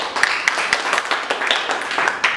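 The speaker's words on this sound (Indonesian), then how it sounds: "Tepuk tangan dong untuk Naturindo" Scattered, light clapping from an audience at a health talk praising Naturindo, given by a massage-therapy practitioner, with sharp claps repeating steadily throughout and no voices.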